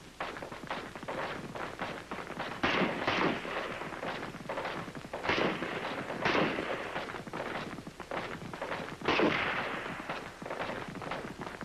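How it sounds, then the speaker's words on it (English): An M-14 rifle fires several rounds of slow fire from the sitting position, a handful of sharp, well-spaced reports with a booming tail, heard over a constant hiss of old film noise. "In the sitting position, you get off several rounds of slow fire."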